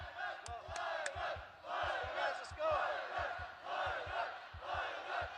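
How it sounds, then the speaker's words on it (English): Kazakh crowd at a ONE Championship MMA bout roaring in support of a fighter, a loud continuous wall of cheering and chanting with rhythmic low thumps pulsing through it and sharp whistles rising above. "Getting the Kazakh crowd showing their support loudly for Kairat Akhmetov."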